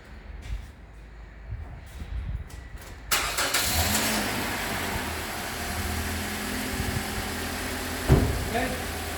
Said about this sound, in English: Run your car for a couple of minutes after you do an oil change.